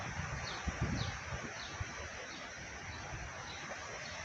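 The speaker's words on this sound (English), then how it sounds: "The heavy wind. Here it is." Heavy wind rushes through leaves in a steady, dense outdoor roar, with a few slightly louder gusts early on and no voices.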